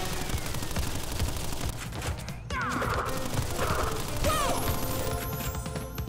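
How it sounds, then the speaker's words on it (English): Rapid gunfire from a rat enemy in Crash Bandicoot N. Sane Trilogy, dense bursts and crashing game effects over a steady loud music bed, with brief swooping tones in the middle. "I have a rat shooting at me."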